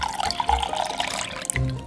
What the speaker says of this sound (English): And then we're gonna add 4 ounces of water.